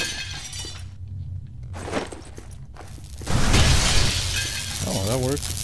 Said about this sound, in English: Don't be afraid to break a little glass.